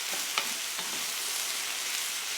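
Pre-cooked sausage heats and browns in a pan, giving a steady soft sizzle throughout with a few faint clicks of stirring near the start.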